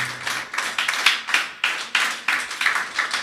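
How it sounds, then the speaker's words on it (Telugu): A church congregation claps loudly during a Sunday worship service, a brisk run of close, sharp hand claps in an uneven rhythm lasting a few seconds, with no talk. "ఒకసారి గట్టిగా చప్పట్లు కొడతారా?"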